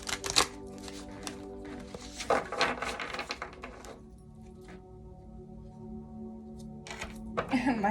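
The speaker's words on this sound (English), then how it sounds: "My shuffling's blowing my feather away." Tarot cards being shuffled by hand, with rapid riffling and papery slaps in bursts separated by a quieter stretch, alongside a low steady background hum.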